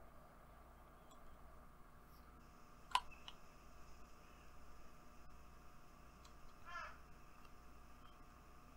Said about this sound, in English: I just really enjoy that crow noise